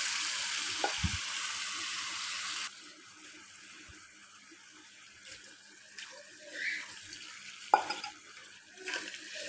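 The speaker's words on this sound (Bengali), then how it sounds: "আমি এখন এতে দিয়ে দিচ্ছি পরিমাণ মতো পানি।" Water pours into a pan of sautéed data stalks and potatoes for pabda fish curry, a rushing hiss for a few seconds, then soft simmering bubbles and faint stirring clinks.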